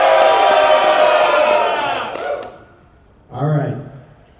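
A convention crowd at a wrestling show during Further Confusion, a furry convention in the San Jose Bay Area, lets out a loud, rowdy cheer and shout that fades out, then a voice rises briefly over the quiet.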